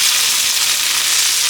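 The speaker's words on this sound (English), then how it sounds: "Got a little too much sizzle starting off." Tofu crackles loudly in overly hot oil in a pan for a pad thai, a dense, continuous close-up sizzle with no pauses.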